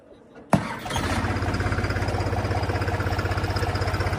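A tractor engine near a muddy field catches with a sudden loud start, then settles into a steady, throbbing idle that pulses rhythmically at close range.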